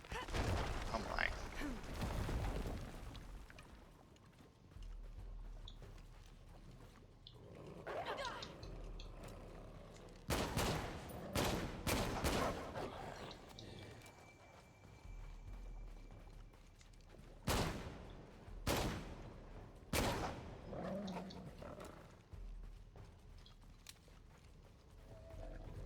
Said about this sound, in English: It's a lot of warning shots right there.